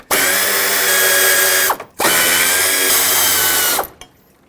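On a 2013-2020 Nissan Pathfinder, a power tool removes two 10mm bracket bolts during an AC condenser replacement, giving two loud, close, steady whirring runs of about two seconds each, separated by a brief pause.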